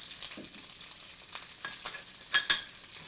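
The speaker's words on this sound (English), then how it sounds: "take my butter, and I'm going to add my butter right into the middle" Butter sizzles steadily in a hot pan around four frozen hash browns, a soft continuous crackle with a few sharper pops, close and fairly quiet, no voices.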